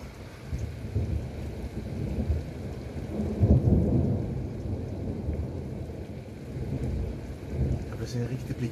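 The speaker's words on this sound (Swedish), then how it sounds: "se en riktig blixtstorm, en riktig knall nu då" Low rumbling thunder rolls through steady rain, swelling to a heavier boom partway through before fading back into the patter.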